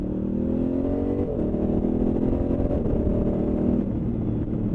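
A Honda Africa Twin Adventure Sports motorcycle with a quickshifter and auto blipper changes down through the gears, a continuous close engine drone stepping in pitch as it shifts, steady and loud throughout.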